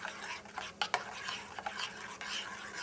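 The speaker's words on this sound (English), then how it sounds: "this is the almond milk, so we are going to just mix it up a little bit" Homemade almond milk being stirred in a container, soft swishing and liquid sloshing with a few light clinks of a utensil, quiet and close with no talking.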